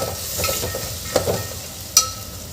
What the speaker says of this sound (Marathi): इथे हे टमाटर हे सुद्धा घालून घेतले, आणि छान परतून घ्यायचं.